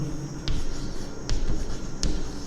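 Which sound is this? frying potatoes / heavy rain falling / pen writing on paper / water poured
pen writing on paper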